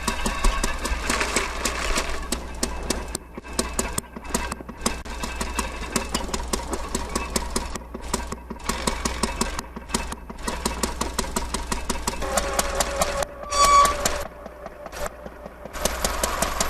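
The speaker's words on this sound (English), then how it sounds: "We killed the engine, but we're going to restart here." A third-scale model tractor engine restarts and runs, giving a steady, busy mechanical chugging with rapid firing pulses and brief dips, close and fairly loud throughout.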